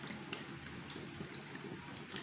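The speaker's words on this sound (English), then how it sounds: "We are using this alcohol, which I'm gonna add now, which is the next ingredient I'm gonna add now to this mixture" Alcohol being poured into a Dettol-style extra-strength disinfectant mixture, a steady, continuous liquid rush lasting the whole moment, close and fairly even in level, with no talk over it.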